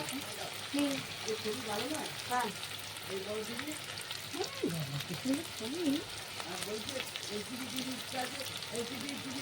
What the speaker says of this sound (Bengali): লাল লাল করে আলুটা ভালো করে ভেজে নিতে হবে